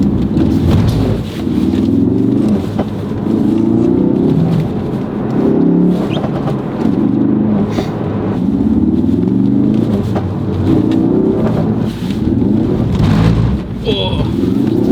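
A Ford Focus RS drives on a thin layer of snow, with a steady, loud engine and tyre rumble running throughout while a voice talks over it.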